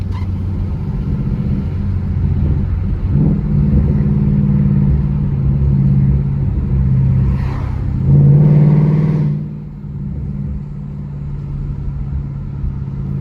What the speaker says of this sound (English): it's a resonator delete replaced with an H pipe, and my exhaust is Roush Axleback.